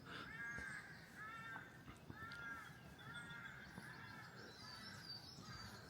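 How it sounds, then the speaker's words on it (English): Outdoor birdsong on a late-March morning in St Lawrence, Isle of Wight, with repeated crow-like caws and calls in a steady rhythm, plus chirps over a soft, noisy background. "I really just want to hear the bird song"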